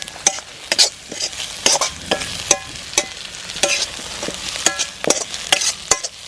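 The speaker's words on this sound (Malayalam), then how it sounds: "പിന്നെ ഒരു വലിയ കുടം വെളുത്തുള്ളി അതിടാം, ഇളക്കാം." A large amount of garlic frying in a pan for Kerala-style chicken pepper fry, with a steady sizzle and repeated sharp scraping clicks from stirring at an uneven rhythm, close up.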